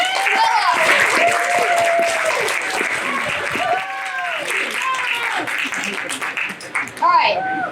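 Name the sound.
audience applause at magic show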